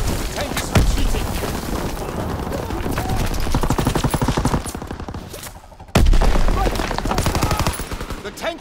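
Machine-gun fire rattles at infantry beside a tank in a war video game, rapid dense bursts running almost the whole time with a sharp boom near the start and another loud burst later, close and loud.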